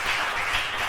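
A church congregation applauds to acclaim the Lord, a thick, continuous wash of many hands clapping together, loud and close.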